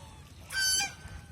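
Domestic geese on a farm give one short nasal honk in the middle of a brief quiet stretch, close by and fairly clear.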